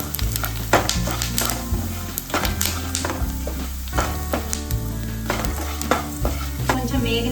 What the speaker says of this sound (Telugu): ఒక 2 స్పూను ధనియాలు, దాంతోపాటు కొంచెం కొబ్బరి ముక్కలు. ఇది కొంచెం వేగాలండి.